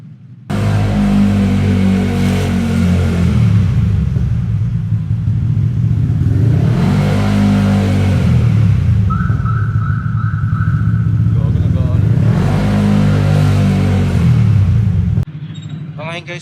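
A Honda ADV 160 scooter runs in a parking area with its engine revved in several long, loud swells, settling back between pushes, close and steady with no talk, before cutting to a quieter idle at the end.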